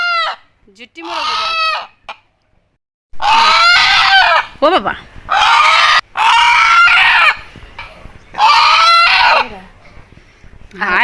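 A rooster crows loudly and close several times in a row, with clucking and short gaps of silence between calls; a person briefly speaks an exclamation.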